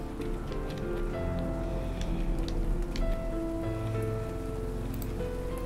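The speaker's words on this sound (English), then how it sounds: "I can't hear you over the rain" Steady rain in the video game Rainswept pours down continuously, a dense hiss with soft tonal music or ambience running beneath it.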